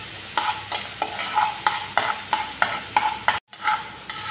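Chopped onions fry brown in hot oil for a catla fish roe dish, with a steady close sizzle broken by repeated stirring scrapes and a brief silent gap near the end.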